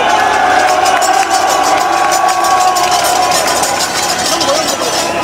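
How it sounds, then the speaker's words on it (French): Large outdoor crowd applauding and cheering for security staff at a new mayor's speech, a loud, dense and steady roar of clapping and voices. "Je veux que vous les applaudissiez."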